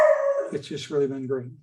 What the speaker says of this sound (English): I'm sorry if you can hear my little beagle barking at a squirrel or something